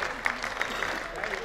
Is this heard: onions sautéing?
no